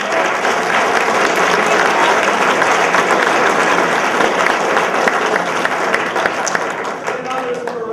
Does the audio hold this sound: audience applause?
yes